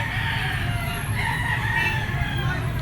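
A rooster crows in a pen of gamecocks offered for sale, a moderately loud call over steady background clucking and low farmyard noise.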